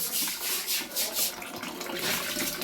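Strong water gushing from a tap into a tank, a loud continuous splashing rush with surging pulses, close by.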